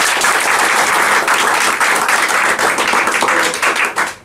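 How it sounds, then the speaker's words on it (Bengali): Loud, sustained applause from an audience at a congratulatory gathering fills the whole stretch, dense and steady with no speech over it, tapering only slightly at the very end. "আমরা তো আরেকটা জোরে করতালি দিতেই পারি"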